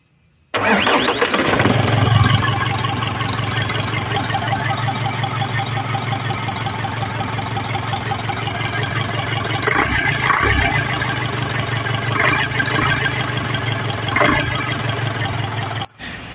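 An Isuzu 4HL1 diesel engine, converted from electronic to manual control after sitting unused for three years, cranks and catches, then settles into a steady, loud, rumbling idle close by with a few brief knocks and clatters over it.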